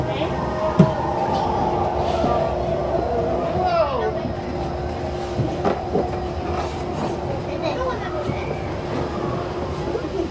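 The Disneyland monorail glides past Fantasyland with a steady rumble and a whine from its wheels. Faint clicks sound from the track, and a narration voice speaks over the ride.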